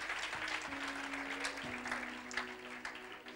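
A church congregation claps together in a steady, lively patter, moderately loud and filling the room, with a sustained tone running underneath and no clear talking.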